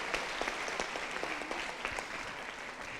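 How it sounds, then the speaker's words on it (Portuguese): Steady audience applause fills the room at moderate volume, a dense patter of many hands clapping continuously with no voices over it. "soma de palmas para a nossa Hazel"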